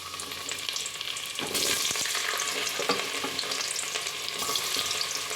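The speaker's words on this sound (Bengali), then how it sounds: "এবার আমি এর মধ্যে গাজর আলাদা আলাদা করে প্রথমে গাজরটাকে ভেজে নেব।" Carrots frying in white oil with a little ghee for Afghani mutton pulao, a loud continuous sizzle that intensifies partway through, with stirring clatter mixed in.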